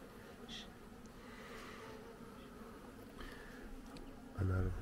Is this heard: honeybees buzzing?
yes